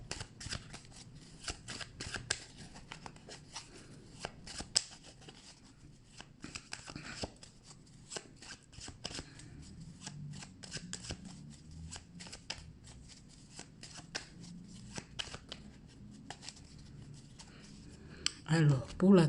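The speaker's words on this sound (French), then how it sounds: "On va prendre deux cartes pour voir la tendance du mois." Tarot cards being shuffled by hand, a steady run of soft riffling and flicking strokes close up, continuing for the whole stretch with a louder handling burst at the end.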